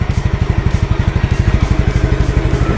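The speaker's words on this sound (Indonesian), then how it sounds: "Kalian bisa dengar guys suara mesinnya guys" A Yamaha Mio Sporty scooter engine runs close by at a steady idle, giving off a rapid, even putter of firing pulses with a slight clattery edge, and no one speaks over it.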